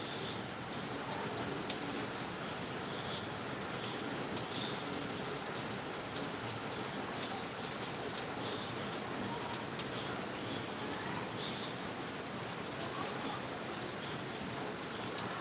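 Steady rain falls continuously for the whole stretch, a dense even patter with faint bird calls in the background.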